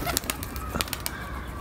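A pet pigeon takes off at a home, its wings clapping and flapping in a quick burst of loud, close beats that keep going as it flies around.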